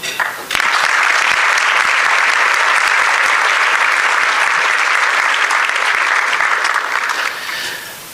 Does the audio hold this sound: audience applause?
yes